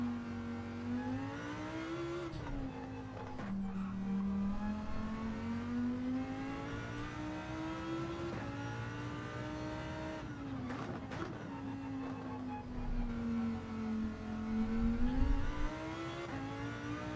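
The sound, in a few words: race car braking and accelerating in Gran Turismo 7 video game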